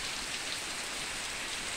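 Steady, gentle rain pours over a rural farm property in the afternoon, a continuous even hiss of drops on surfaces that fills the whole moment with no talking.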